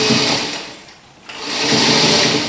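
A sewing machine motor whirs loudly and close, briefly easing off and dipping near the middle before speeding back up to a steady high hum.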